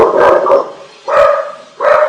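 Female dogs bark at a supplier's arrival in three loud, close bursts of barking with short gaps between them, and no talking.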